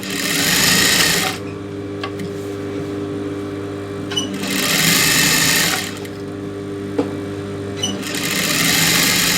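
Sewing machine stitching around a lining for a silk skirt neck design, running in three loud bursts of rapid stitching separated by quieter pauses with a steady motor hum underneath, no voices.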